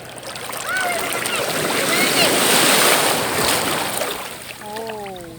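Seawater splashes and washes along an island shore with white sand, a steady broad surf noise rising and falling through the clip while voices speak over it.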